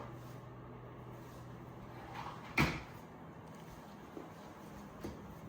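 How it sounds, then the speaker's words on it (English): A drawer slides out of a car-shaped bed frame with one sharp clack of release, then faint small knocks in an otherwise quiet room. "Press this at the same time, then you can take out the drawer."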